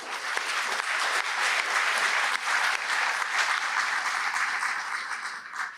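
An audience at the JuliaCon 2023 opening ceremony applauds a conference organiser, a dense, even wash of clapping from many hands that holds steady for several seconds before tapering slightly at the end.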